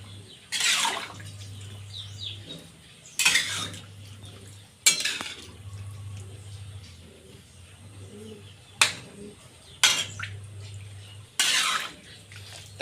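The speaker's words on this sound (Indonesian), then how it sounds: "Jadi kita masukkan tahu, kita aduk dulu agar bumbu meresap." Tofu being stirred with seasoning in a pan for a home-style balado dish with minced meat, giving several sharp utensil scrapes and clacks against the pan at irregular intervals, fairly close, with quiet gaps and a low steady hum between them.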